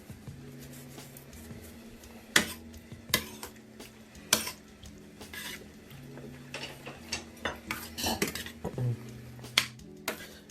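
Metal spoons clink and scrape against a pot of beef fricassée being stirred and tasted, sharp irregular knocks and rattles spread over several seconds above a low kitchen hum, with no talking.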